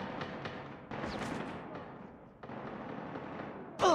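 Rattling gunfire in a Call of Duty: Mobile team deathmatch, a dense stretch of shots and blasts with short gaps, ending in a sharper louder burst, no speech.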